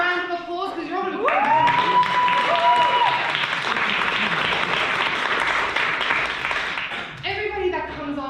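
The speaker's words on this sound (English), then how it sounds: "So give each other a round of applause" A comedy show audience claps in a full, steady round of applause lasting several seconds, with voices talking over the start and end.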